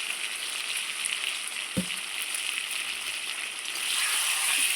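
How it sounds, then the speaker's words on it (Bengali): Potol posto, pointed gourd cooked with poppy seed paste, sizzles steadily in a pan as sugar is stirred in, a continuous close hiss with one brief knock near the middle and no voices. "এবার মিষ্টিটা দিয়ে খুব সুন্দর করে নেড়ে নিচ্ছি"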